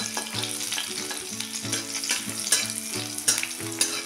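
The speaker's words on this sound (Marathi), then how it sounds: "हिरवी मिरची बऱ्यापैकी परतून घ्या" Finely chopped green chillies fry in hot ghee and oil, crackling and sizzling up close, with a spoon stirring in short repeated strokes and a few sharper pops.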